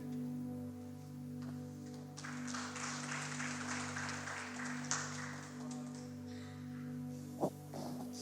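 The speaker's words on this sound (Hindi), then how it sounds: "क्यों ना एक बार फिर से जोर से ताली बजा के परमेश्वर का धन्यवाद करें" Church congregation clapping during a Sunday Hindi service, a steady wash of applause from a crowd under a sustained tonal hum, with one sharp loud clap or knock near the end.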